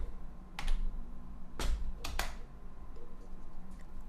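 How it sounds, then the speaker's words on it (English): Computer keyboard typing, with a few sharp close key clicks and a spacebar tap in short irregular bursts, fairly quiet against a low background hum. "I type in height"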